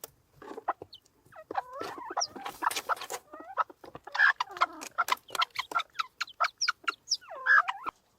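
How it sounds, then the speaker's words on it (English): Bantam chickens cluck and chirp close by around a newly hatched chick on a farm, with a steady run of short, repeated calls and a few higher peeps. "So here is a rather lovely little chick that was hatched."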